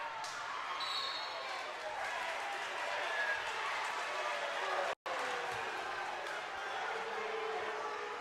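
Crowd at a boys' high school basketball game, Cienega vs Buena, rumbling loudly and unhappily over a referee's call, a steady roar of voices and scattered claps with a commentator talking over it.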